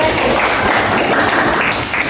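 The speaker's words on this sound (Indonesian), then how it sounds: "ya tepuk tangan buat temennya tadi." A classroom of students applauding a classmate during a lesson, steady close clapping that fills the room for a couple of seconds without pause.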